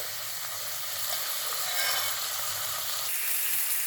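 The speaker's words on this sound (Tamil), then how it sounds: "இந்த சட்னி நல்லா அது வதங்கட்டும்" Tomato chutney for idli and dosa sautéing in a pan gives a steady, soft sizzle and crackle that runs throughout without pause, with no talking.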